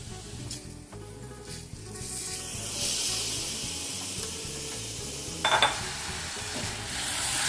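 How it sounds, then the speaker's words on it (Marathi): Rice stir-fried in a pan with browned onions gives a steady moderate sizzle, broken by spatula scrapes and stirring and one brief louder clank of utensil on pan, with no voices. "आता हे तांदूळ आपण ह्या कांद्याबरोबर परतवून घ्यायचे तांदूळ पण चांगले आपण फ्राय करायचे आहेत"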